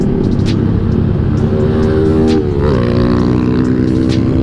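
A Honda Beat motorbike engine drones loud and close while riding on a bumpy road, a steady buzzing hum with a brief dip and shift in pitch midway, plus wind noise.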